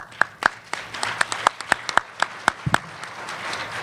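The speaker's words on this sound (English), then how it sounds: "You got your opposition to clap for you." Audience at a debate gives a short round of applause, sharp separate claps at a brisk regular rhythm, fairly close and alone, thinning out after about three seconds.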